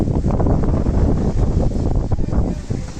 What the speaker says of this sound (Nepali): हावा लागिरहेको छ